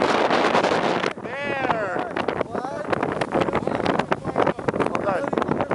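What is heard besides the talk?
strong wind at the beach during a blizzard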